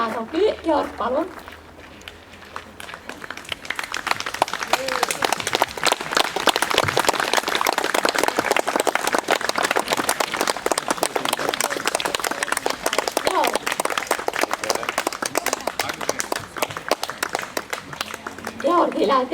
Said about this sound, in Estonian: Üks aplaus veel.